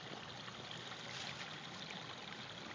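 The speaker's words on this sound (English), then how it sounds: "have a look at the water in the most pristine stream in Jefferson County, Missouri" Steady broadband rush of a clear, pristine stream flowing in Jefferson County, Missouri, a continuous even wash of water heard alone with no voices.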